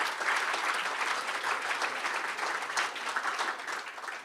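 Warm applause from an audience at an AGM and awards evening, a full room clapping steadily and loudly throughout, with no speech over it.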